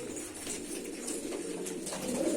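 Pigeons cooing in a pigeon loft, soft repeated low coos close by over a steady background murmur.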